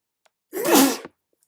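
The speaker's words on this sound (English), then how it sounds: "Yep, sneezing." A single sharp sneeze, loud and close, rising quickly and cutting off within about half a second, with near silence around it.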